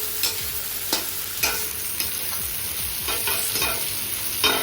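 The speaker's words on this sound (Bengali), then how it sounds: "আর এবারে কেটে রাখা পেঁয়াজগুলো দিয়ে দিলাম।" Chopped onions fry in hot oil with nigella seeds and green chillies, a steady close sizzle broken by repeated scraping stir strokes of a spatula against the pan.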